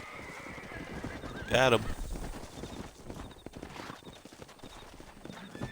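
A lassoed horse in the Western video game Red Dead Redemption whinnies loudly in one sharp burst over steady clip-clopping hooves, with someone talking briefly nearby.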